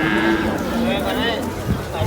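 A young bull calf, about ten or eleven months old, at a cattle market lets out a low, drawn-out moo over steady background crowd noise and nearby talk.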